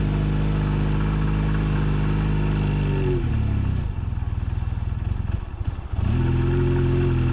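A carbureted Honda Rebel 250 motorcycle engine runs close by with its choke on, a steady low idle that drops briefly, pulses unevenly for a couple of seconds, then settles back to a steady idle.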